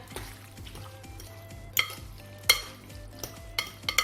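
Pasta with a whole block of feta and tomatoes gets stirred in a pan, with several sharp clinks of a utensil against the pan over a soft background sizzle and scraping, no speech.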